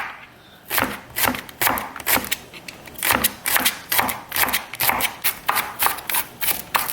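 Knife cutting the trimmed ends of scallions into thin slices on a board for wonton filling, a steady run of crisp, evenly spaced chops close up with no talk.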